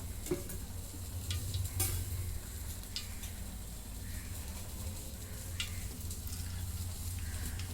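Cumin seeds and onion fry in oil for a mutton curry, giving a steady hiss and crackle with a few sharp stirring scrapes early on, no one speaking.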